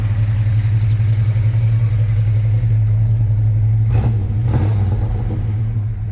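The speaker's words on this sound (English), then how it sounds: "You mind giving her a couple more revs there, Dan, please?" A 1967 Chevrolet Caprice with a 427 big-block V8 runs loud and close, its deep steady rumble swelling briefly with a couple of quick revs near the end.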